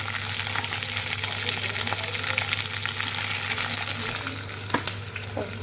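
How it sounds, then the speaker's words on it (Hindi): Onion petals sizzle steadily in desi ghee with cumin, a constant loud frying hiss with light stirring clatter and a few sharper crackles, no talk. "देसी घी में झाग जरूर बन जाते हैं, तो दिखेगा नहीं। इसमें डालते हैं प्याज के पेटल्स,"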